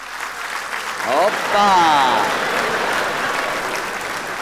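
Applause fills a stand-up comedy venue, starting moderate and swelling into loud, sustained clapping from the audience while a voice calls out over it.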